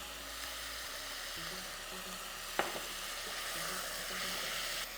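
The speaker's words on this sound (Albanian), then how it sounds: "dhe e leni të skuqet për një 5 deri në 6 minuta" Meat and ingredients for spinach soup fry in a pot with a soft, continuous sizzle, quiet and close, with one sharp utensil clink partway through.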